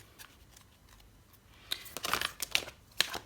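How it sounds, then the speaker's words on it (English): Soft papery riffles and flicks of a deck of tarot cards being shuffled close by, quiet at first, then a busier burst of shuffling. "My hands are not big enough to shuffle this deck."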